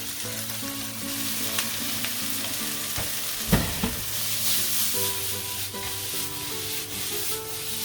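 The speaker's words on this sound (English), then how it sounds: "We'll put the prawns in with these. And the onions are nicely softened up a bit." About 500 grams of prawns frying in a pan with softened onions for a prawn pasta, making a loud, continuous sizzle with stirring scrapes and a brief clatter partway through, and no voices.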